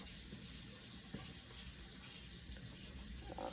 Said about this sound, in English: Yeah, that ASMR, them beautiful little water faucet sounds.